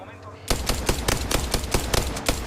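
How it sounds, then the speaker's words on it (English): Gunfire in Apex Legends: rapid automatic weapon bursts break in suddenly and keep up a steady rattling rhythm of loud, close shots to the end, with faint game sounds underneath. "Opening fire on our prey."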